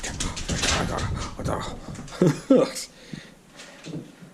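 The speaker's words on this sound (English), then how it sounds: "Oh, such a cute puppy, aren't you?" A puppy gives a couple of short, high whimpers while someone nearby speaks to it in a soft, affectionate voice, and the whines come through between and under the talking.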